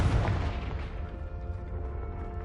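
A Confringo blasting spell explodes in Hogwarts Legacy, starting with a loud, booming burst that rolls off into a rumbling, slowly fading tail with a faint ringing tone. No one talks over it.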